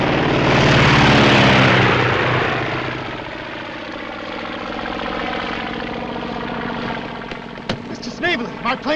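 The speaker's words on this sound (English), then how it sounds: "Plane took off without me." Propeller airplane engine droning loudly as the plane takes off, a strong close roar that eases slightly, with a few sharp knocks near the end.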